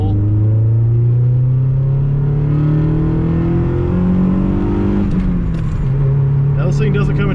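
A manual Chevy Beretta GTZ coupe revs and launches in second gear, its engine note climbing steadily in pitch before a shift, loud and close over a constant rumble, with a voice speaking briefly.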